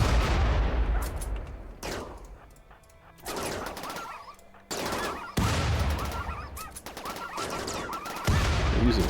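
Air burst grenades going off in the colony sim Rimworld, a dense run of sharp, loud bursts in several clusters with brief quieter gaps between volleys, popping like rapid gunfire.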